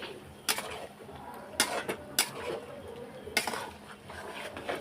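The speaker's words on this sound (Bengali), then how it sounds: "এই দেখো কষানো হচ্ছে" Mutton is sautéed in a pan, and a spatula scrapes and clinks against the metal in a few sharp, irregular strokes over a low, steady background hiss.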